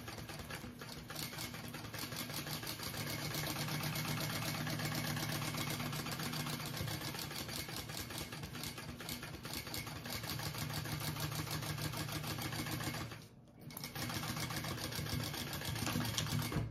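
A sewing machine bastes a bag seam with a long stitch length, humming and rattling steadily at close range, with one brief pause before stitching resumes. Nobody speaks.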